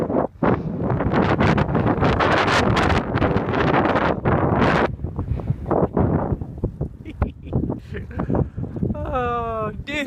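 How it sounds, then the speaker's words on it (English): Strong headwind buffets the microphone while cycling on a road ride from Dumfries to Penrith, a loud continuous roaring rush with gusty surges that nearly drowns everything, easing toward the end as someone talks. "What on earth's that I feel? Could it be? Oh yes, another direct headwind."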